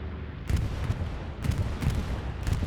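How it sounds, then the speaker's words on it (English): Bombing-run explosions in a multiplayer video game match sound as a series of heavy booms, roughly one per second, each a sharp blast trailing into rumble over continuous low background noise. "Bombing run coming in?"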